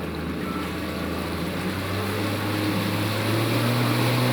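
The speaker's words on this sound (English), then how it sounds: "Now that I've cleared the no wake buoy, I can accelerate. I want to accelerate slowly. Push the throttle forward." A motorboat engine hums and builds steadily as the throttle is pushed forward past a no-wake buoy at a marina, the drone rising in pitch and loudness over a few seconds with no talking.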